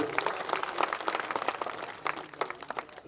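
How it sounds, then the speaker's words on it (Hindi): An audience claps for the saints at a gathering about Sant Ravidas: fairly faint, busy crowd applause with many overlapping claps and a few crisper ones, sustained throughout. "हमारे संत समाज के लिए एक जोरदार ताली बजाने का काम करें साथियों"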